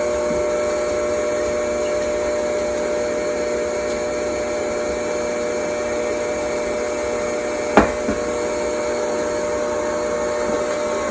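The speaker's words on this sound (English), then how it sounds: "I'm going to turn my mixer down to 4" Electric stand mixer running on speed 4 while flour goes into bread dough, a steady close whirring hum with a single sharp clink partway through.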